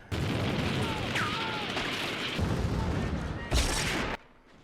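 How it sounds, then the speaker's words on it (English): Gunfire rattles through a Firefly episode on screen, a dense continuous barrage with a louder burst near the end before it cuts off, with speech mixed in. "Now they shooting real gun."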